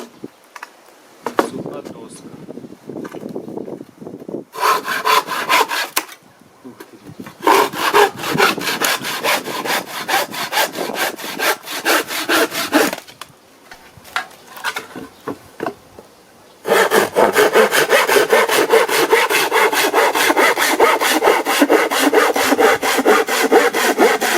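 A Dnipro-M hand saw rasps back and forth through a dry board in quick, rhythmic strokes, close and loud, pausing briefly before a longer, steadier run of cutting.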